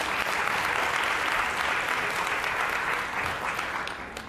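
Sustained applause from an audience at an evening celebration honoring women veterans, a steady dense wash of many hands clapping that holds evenly for several seconds and eases slightly near the end, with no talk over it.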